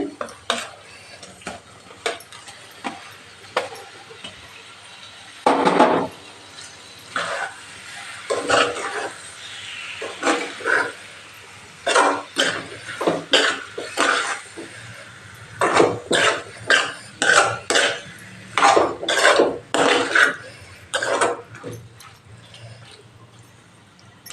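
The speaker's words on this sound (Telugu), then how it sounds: "ఇప్పుడు రొయ్యలు వేస్తున్నాను చూడండి" Prawns frying in a pan for prawn curry: a steady close sizzle runs throughout, broken by repeated scraping and clattering strokes of a spoon stirring against the metal, growing busier and more rhythmic toward the end.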